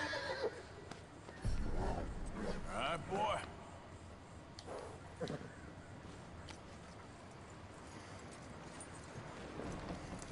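Horse hooves clip-clop in the video game Red Dead Redemption 2, with a whinny, heard quietly under someone talking in Portuguese.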